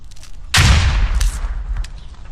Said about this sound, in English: Watch out, Cup. Grenades.